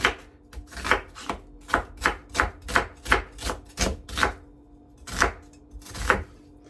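A knife chops through onion on a board in a series of crisp, evenly spaced strokes, close up, then pauses and makes two more cuts.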